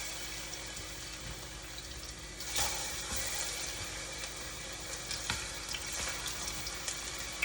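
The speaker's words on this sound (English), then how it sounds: "I'm making some fry ripe plantain. That is it. Yeah man, the oil is hot guys." Ripe plantain fries in hot oil, giving a faint, steady sizzle and crackle with occasional small pops throughout, heard close and alone.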